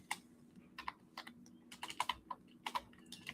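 Close clicking of fingers typing on a computer keyboard, irregular bursts of keystrokes with short pauses in a quiet room.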